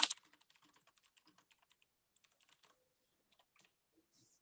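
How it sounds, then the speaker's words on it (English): Quiet, rapid keystrokes on a computer keyboard patter in an irregular burst of clicks, close and faint, then slow to a few scattered taps. "I could start typing straight away"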